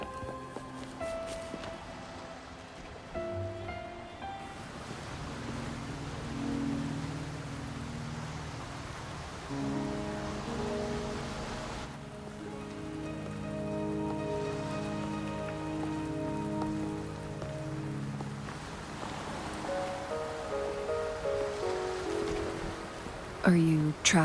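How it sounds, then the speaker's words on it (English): Steady rain falls in the Wuthering Waves game world, a continuous soft patter under swelling orchestral music with sustained tones throughout. "Are you trapped here by the rain?"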